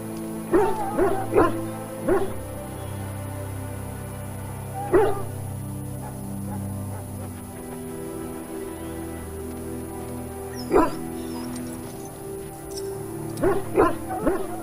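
Several short bursts of barking from a dog in a fantasy role-playing game, in clusters at the start and near the end over a low ambient hum, close and moderately loud with no talk.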